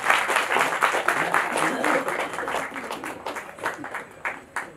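Audience applause at a stage cultural event, a dense patter of many hands clapping that swells early then gradually thins and fades toward the end.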